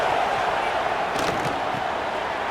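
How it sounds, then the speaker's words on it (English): A dense, loud stadium crowd roars continuously at a Washington Huskies college football game, a broad wash of cheering and noise with a few sharper bursts in the middle. "This crowd bringing the energy and noise early."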